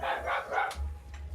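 A dog barks in a short burst of three or four yelps close by, loud against a steady low hum, then quiet.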